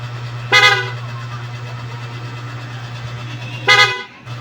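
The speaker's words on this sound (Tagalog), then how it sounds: "i-testing ngayon ang busina kung talagang malakas ba siya" Two short loud blasts from an aftermarket PIA horn fitted to a Honda ADV160 scooter, close up, with a steady low electrical hum underneath between the blasts.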